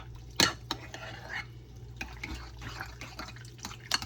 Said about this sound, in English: I'm just going to stir this cheese up.